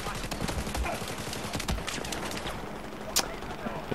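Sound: rifle gunfire in the video game Battlefield 4

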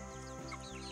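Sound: hens clucking

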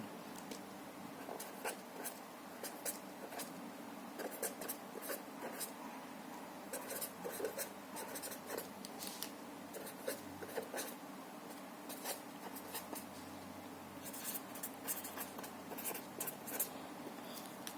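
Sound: writing out a linear equation example

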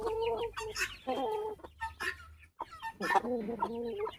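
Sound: hens clucking

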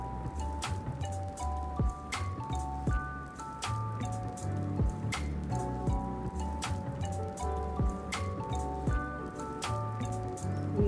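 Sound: curry leaves and dried red chillies frying in hot oil

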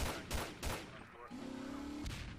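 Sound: gunfire shooting at people in the video game GTA San Andreas

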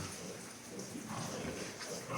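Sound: pigs

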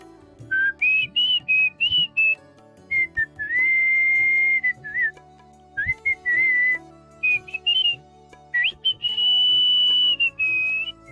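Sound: man imitating a flute by whistling

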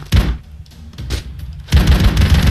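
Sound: gunfire in a video game

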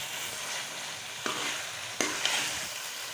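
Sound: crushed mint being mixed into frying green chicken korma

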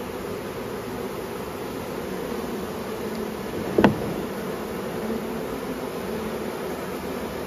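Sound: honey bees fanning at hive entrance

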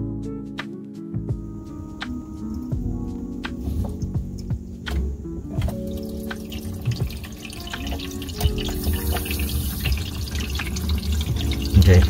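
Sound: water flowing through newly installed APEC RO water system

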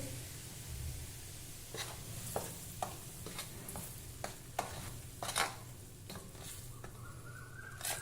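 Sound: hot oil poured into flour for dough

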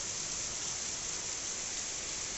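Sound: heavy rain

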